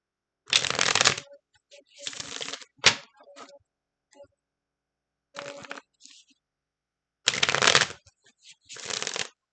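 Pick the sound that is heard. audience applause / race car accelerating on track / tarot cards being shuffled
tarot cards being shuffled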